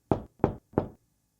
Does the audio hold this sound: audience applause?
no